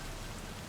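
Rain hisses in the video game Cyberpunk 2077, a brief steady wash of falling drops at moderate level with no other sounds.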